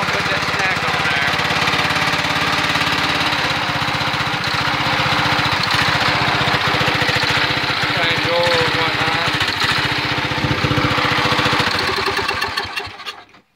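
A John Deere 111 lawn tractor engine runs steadily and loudly nearby with a rough, chugging rhythm, then cuts off at the end.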